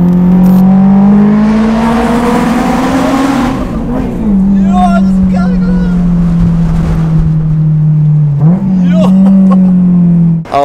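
A Honda S2000 with an aftermarket Jaryd exhaust system accelerating hard, its loud, rising engine note climbing steadily, then dropping at a shift and pulling again close by.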